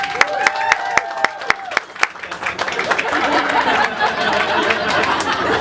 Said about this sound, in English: And I didn't do it for the applause.